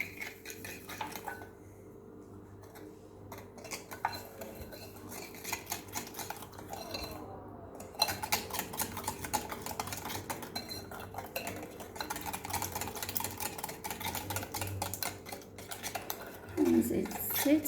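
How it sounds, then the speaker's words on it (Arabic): Eggs whisked with sugar in a bowl for a light lemon cake, a steady run of clinking, scraping strokes of utensil against bowl, busy and close with a few louder knocks near the end and no talk. "نخلط هذا البيض مع السنيده."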